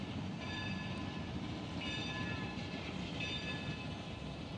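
Coal-powered steam locomotive at Cass, West Virginia, a dense, steady rumble and hiss of the train running close by, with faint tonal ringing on top and no pauses or voices.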